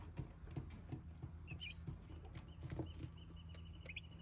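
Soft, high peeping chirps from Bourbon Red turkey chicks come in scattered bursts over a low rustling, shuffling background, fairly quiet and close.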